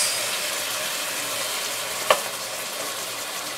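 Butter melts and sizzles in a pan of cooked-down vegetables for a chicken pot pie, a steady close frying hiss with a couple of brief scrapes as it is stirred.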